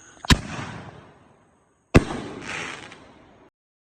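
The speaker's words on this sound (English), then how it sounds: "Here's a clip of what those fireworks look like." Fireworks go off during a hurricane, two sharp loud bangs about a second and a half apart, each followed by a crackling, fizzing tail that fades out, with no talk.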